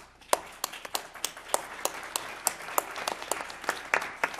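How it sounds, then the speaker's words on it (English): Applause from attendees at a board of education meeting, a modest group clapping with distinct, irregular individual claps close by, steady for several seconds. "So I'd like to give them a round of applause."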